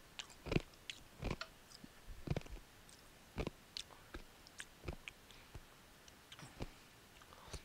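Someone chewing ice, a string of loud, sharp crunches spaced irregularly across several seconds, close to the mouth with no talking.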